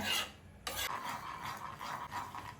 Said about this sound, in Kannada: ಇದು ಇವಾಗ ಕುದಿ ಬರ್ತಾ ಇದೆ